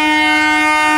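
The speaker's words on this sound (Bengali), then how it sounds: "কাটোয়া জংশনের 6 নম্বর প্ল্যাটফর্মে ঢুকছে আজকের কাটোয়া বর্ধমান লোকাল" An EMU local train, the Katwa–Burdwan service of the Bandel car shed, pulls into platform 6 at Katwa Junction, giving off a loud, steady whine of sustained tones with no break.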